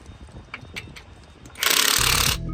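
Lug nuts on aftermarket wheel spacers being snugged down in a star pattern: a few faint clicks, then a loud, steady mechanical buzzing burst of a tool running for under a second, close by.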